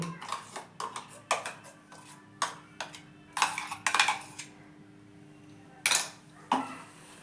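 Spoon scraping and clinking against a bowl while transferring ground amla chutney, a series of short, sharp knocks with brief pauses, close by and fairly quiet, no talking.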